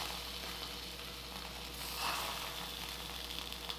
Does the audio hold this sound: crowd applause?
no